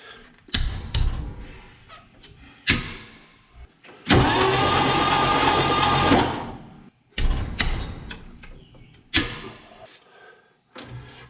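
A 1957 International Metro van, a neglected ex-Air Force bomb squad van, cranks over in several separate bursts with pauses between them, the longest lasting about two seconds, loud and close without catching.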